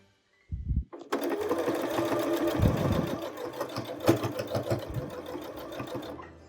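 A sewing machine stitches a quilted mug rug, starting after a short bump and then running in a fast steady whir for several seconds before slowing near the end, heard close and clear.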